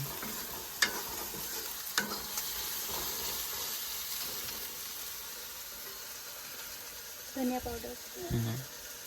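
A freshly ground spice paste frying in oil hisses with a steady sizzle, punctuated by a couple of spoon scrapes; a voice speaks briefly near the end.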